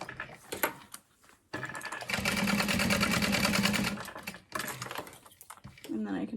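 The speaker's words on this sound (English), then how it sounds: "I'm just gonna sew across one diagonal" A sewing machine runs in a steady, fast stitching burst while sewing a diagonal line across a boxed corner of a fabric bag. Short starts and stops come before and after the main run, and a voice speaks in the pauses.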